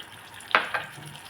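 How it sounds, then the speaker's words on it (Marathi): Garlic paste and a little red chutney dropped into hot oil, a brief burst of sizzling spatter that flares twice then settles to a low hiss, no talking. "तेल हे आपलं छान तापलेलं आहे त्याच्यामध्ये टाकते मी आता लसणाची पेस्ट"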